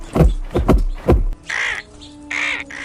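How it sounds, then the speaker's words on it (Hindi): A vulture calls out with three loud, harsh caws in quick succession, followed by two drawn-out raspy squawks, close and alone. "नौजवान गिद्ध खुशी से चहक उठा।"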